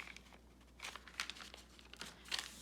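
Aged paper newspaper print being folded up, faint soft rustles and crinkles in a few short bursts, the last one slightly louder, nearby and quiet with no voices.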